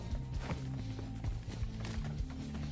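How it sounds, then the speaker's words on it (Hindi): Running footsteps in an online shooter game come as a steady series of soft, muffled thuds, quick and rhythmic at moderate volume, with no speech over them. "देखना फुटस्टेप्स की आवाज सुनो"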